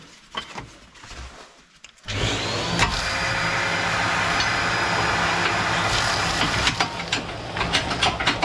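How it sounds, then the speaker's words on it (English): A vacuum cleaner switches on after a quiet couple of seconds and runs loud and steady, sucking soot and debris out of the back outlet of a multifuel stove, with faint rattling and scraping through the hose. "let's get the hoover back on"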